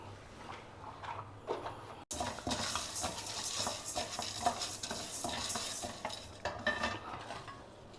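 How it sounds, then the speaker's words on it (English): Urad dal, chana dal, coriander seeds and hing roast dry in a pan, with soft sizzling under repeated scraping and rattling strokes of a spoon stirring, fairly quiet and close, with a brief dropout early on. "Now the dals and spices are well roasted."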